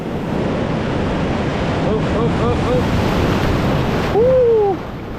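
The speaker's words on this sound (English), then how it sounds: "Brace for the wave." Ocean surf surges and washes in steadily at Ruby Beach on the Pacific coast, with wind buffeting the microphone and a voice briefly calling out as a wave rolls in near the end.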